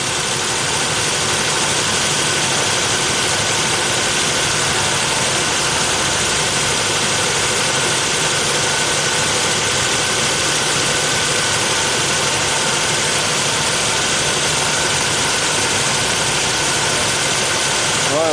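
A 2014 Toyota Sienna AWD with a U660F transmission idles steadily in a workshop: a constant, fairly loud engine hum with a faint underlying knock and vibration, no speech, running unbroken for the whole stretch.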